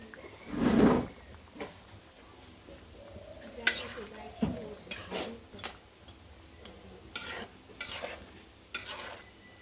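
Lentil bori dumplings dropped into hot oil with shol fish curry cooking, a soft sizzle under stirring and scraping, with occasional clinks and a brief murmur of a voice.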